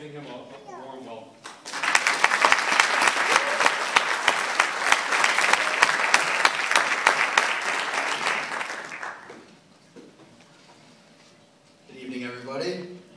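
A crowd claps warmly for a graduation speaker at a University at Buffalo biological sciences convocation, a dense, steady applause lasting about seven seconds before dying away, with speaking voices just before and after.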